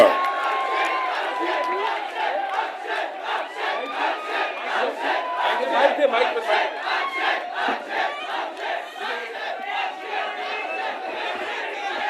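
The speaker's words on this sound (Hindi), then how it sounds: "जोरदार तालियां for the entire star cast of Housefull" A large crowd of fans cheers and shouts at a Housefull 4 star cast event, a rolling, pulsing roar of many voices that stays loud throughout without a clear speaker.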